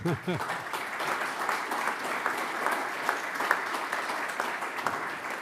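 Audience applause at a European political forum in Vienna, a steady, moderately loud wash of many hands clapping that continues evenly throughout, with a faint voice briefly audible at the start.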